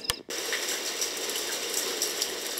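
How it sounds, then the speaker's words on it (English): A brief click, then a steady hiss of rain sound played from a sunrise alarm clock, even and moderately quiet, with no voices. "This is the rain."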